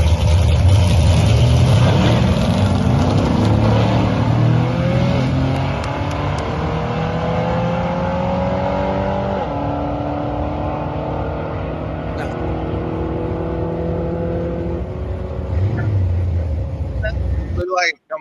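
A race car engine revs and runs down a drag strip, loud and sustained, with gear changes shifting its pitch before it cuts off abruptly near the end, with voices talking underneath.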